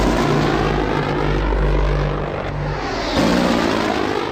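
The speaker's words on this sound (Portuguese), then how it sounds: "Helicópteros Little Bird são enviados em uma tentativa desesperada de tentar manter os somalis" Little Bird military helicopters flying over Somalia during a combat operation, a loud, continuous engine and rotor drone that swells slightly near the end, with no voices.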